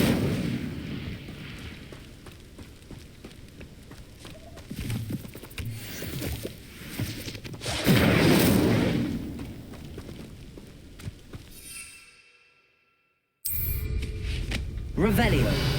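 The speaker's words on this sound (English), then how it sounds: "Incendio!" Incendio fire spell cast in Hogwarts Legacy, a loud roaring burst of flame with a swelling whoosh over busy game sound, followed by a sudden near-silent gap and then the action resuming.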